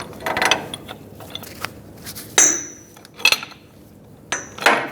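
A pipe wrench works a reverse-threaded outer tie rod jam nut on a 2011-2018 Ram 2500, giving close metallic clanks, scrapes and ratcheting clicks in irregular bursts.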